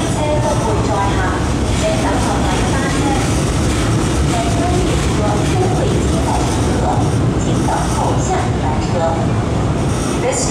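A Hong Kong MTR M-Train on the Tsuen Wan Line rumbles loudly and continuously through Mong Kok station without stopping, while an announcement voice speaks over the noise.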